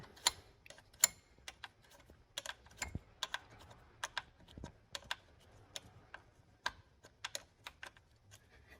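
Series of sharp, irregular metallic clicks and ticks from a Vauxhall Corsa battery terminal clamp being tightened with a tool, quiet and close, spread across the clip with brief pauses.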